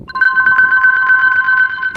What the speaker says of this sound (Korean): 제가 좋아하는 그 남자에게 전화를 걸었습니다